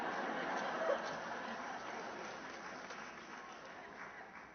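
Audience applause at a May 2014 commencement ceremony, a steady, fairly quiet wash of clapping from a large crowd that continues without a break.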